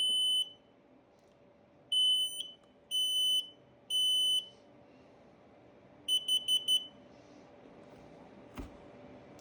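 X-Sense smoke detector under test: four loud, high electronic alarm beeps in a steady rhythm, then a quicker burst of four shorter beeps, close by over quiet room noise.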